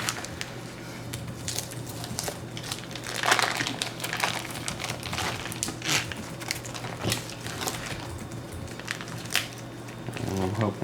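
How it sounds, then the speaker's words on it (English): Knife slicing through bacon strips while preparing them for canning in a mason jar, giving close, steady crinkling and squishing cuts with scattered rustling throughout. "You don't want this bacon to fit inside the mason jar, so I'm just going to about cut it in half there."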